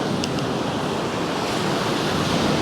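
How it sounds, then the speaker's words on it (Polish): Big sea waves crash against the coast at Leuca in southern Italy, making a loud, unbroken roar of surf and churning water with no voices. "Te fale mnie tu trochę przerażają."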